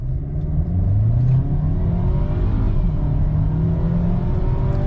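A Geely Tugella car accelerates hard from a standstill toward 100 km/h, its engine giving a steady loud rising drone and rumble heard from inside the cabin, with no talking.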